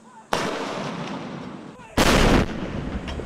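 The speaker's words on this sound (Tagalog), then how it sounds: "Binigyang pugay ng Armed Forces of the Philippines sa pamamagitan ng gun salute ang dati nilang Commander-in-Chief" Military cannon fire for a gun salute by the Armed Forces of the Philippines: two loud, booming blasts a second and a half apart, each followed by a rumbling echo.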